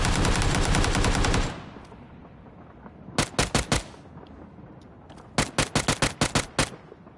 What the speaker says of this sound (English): Did someone just shoot at me?